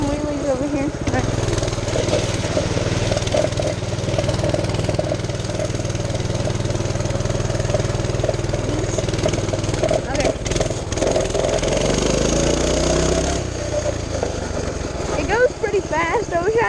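A mini bike engine revs and idles loudly throughout as it is ridden through water and popped into wheelies, its steady mid-pitched drone shifting near the end, with a voice talking over it.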